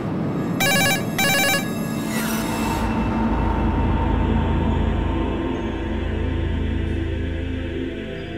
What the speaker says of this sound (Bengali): অনেকক্ষণ ধরে ফোনটা বাজছে,